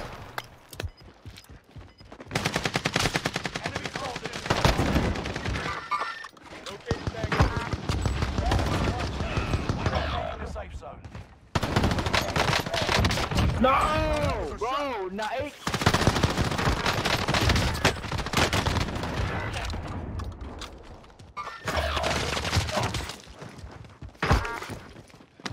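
MP40 submachine gun fire in a video game, repeated bursts of rapid shots with gaps between, heard close and loud alongside in-game sounds and people talking throughout.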